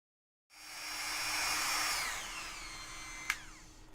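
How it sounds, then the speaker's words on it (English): A Dremel rotary tool with a sanding attachment whirs up to a high steady whine while smoothing the edges of a puzzle piece, the pitch sagging under load, with a brief sharp grinding spike near the end. "I'm going to take my Dremel with a sanding edge"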